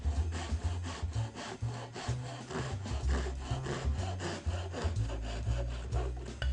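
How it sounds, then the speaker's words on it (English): A hand saw cuts wooden shear clamps to length for a stitch-and-glue kayak, steady rasping back-and-forth strokes in a regular rhythm, close and continuous throughout. "I'm going to mark and cut the shear clamps to match the plans"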